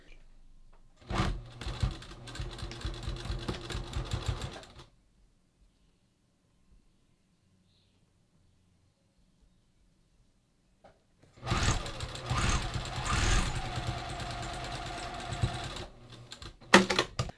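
A sewing machine stitches a shoulder seam in two rapid, rattling bursts of about four and five seconds, separated by a long near-silent pause.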